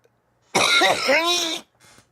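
One drawn-out, raspy cough or throat-clearing, loud and close, lasting about a second, followed by a faint breathy trail.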